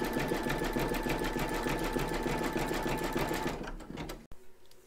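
An embroidery machine stitches an in-the-hoop crazy patch quilt block with a fast, steady mechanical whirring hum, close up, before stopping with a click near the end.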